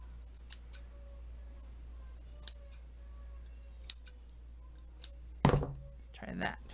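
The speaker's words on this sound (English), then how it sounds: "I'm just going to trim it down." Scissors trimming a doubled-up rectangle of material for a flower hair clip: several crisp, separate snips spaced a second or so apart, close by, then a louder rustle of handling near the end, with no one speaking.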